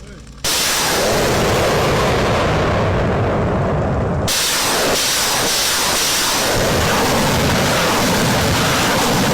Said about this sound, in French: L'artillerie est mise à contribution et la base est détruite depuis des kilomètres.